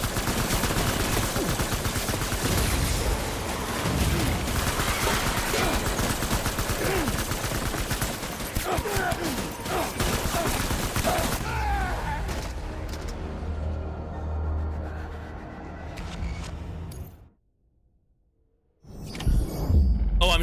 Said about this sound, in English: I'm shooting with my own blood